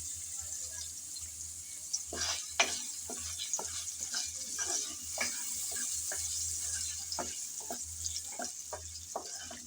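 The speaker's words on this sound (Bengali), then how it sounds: "লবণ আর হলুদ দিয়ে নেড়ে চেড়ে ভালোভাবে আলু ভেজে নিতে হবে" Potatoes frying in oil with salt and turmeric while being stirred, a constant hiss under a series of regular scraping strokes and a low hum, close with no voices.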